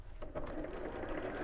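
Sewing machine stitching across the bottom of a messenger bag pocket, a quiet continuous whirring hum at close range with no talk over it.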